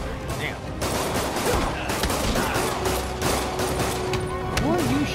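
Gunshots ring out in a rapid, sustained volley, loud and dense, with a person talking over the shooting.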